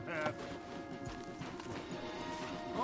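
Horses' hooves clip-clop at a walk in Red Dead Redemption 2, a steady rhythmic clatter under background music and a brief whinny, with voices talking over it.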